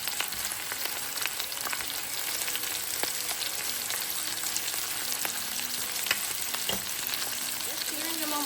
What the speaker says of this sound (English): Just searing them on both sides, y'all.